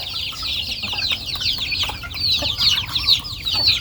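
Thai native chickens cluck and chatter together at morning feeding, a steady overlapping flock noise close by with no talk over it.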